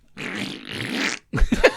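A voice blows a long, sputtering fart imitation, then a shorter burst of wet, flapping raspberry sounds after a brief pause; close and fairly loud.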